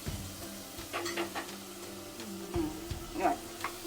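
Paya soup ingredients with onion being stirred in a pot, giving soft scraping and stirring strokes over a low simmering sizzle, close and fairly quiet, with no talking.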